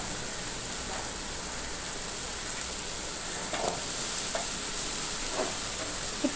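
Steady sizzling and frying of potatoes and carrots stir-fried with onions in a pan in a village-style kitchen, with occasional soft scrapes of stirring over a constant hiss, no voices.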